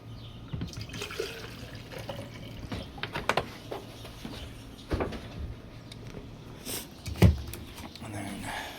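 Water poured from a container onto seed-starting mix for balcony seed trays, with soft splashing and trickling bursts spread across the clip, a few handling knocks and a louder thump near the end.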